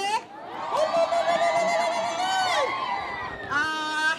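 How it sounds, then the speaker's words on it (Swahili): A crowd at a Banyamulenge community celebration in Kenya breaks into high, trilling ululation, several voices overlapping in bursts with cheering between them. "Hebu tupige vigelegele"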